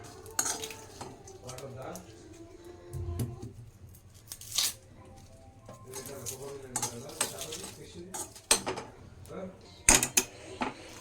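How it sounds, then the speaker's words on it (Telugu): A knife chopping tomatoes and green chillies for a dried fish curry, with scattered clicks and taps of the blade on a board, clinks of utensils and sharp knocks, mixed with kitchen handling noise. "మనం టమాటాలు పచ్చిమిర్చి అయితే కట్ చేసుకోవచ్చు టైం వేస్ట్ అవ్వకుండా"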